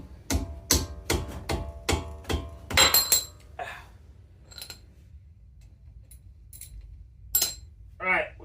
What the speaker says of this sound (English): I'm going to use a socket and a ratchet. Give it a few hits.